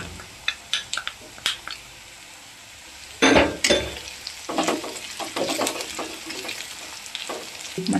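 Onions frying in a pan while chili powder goes in, with a soft sizzle underneath, scattered clinks and scrapes of a spoon against the pan, then a burst of louder sizzling and stirring.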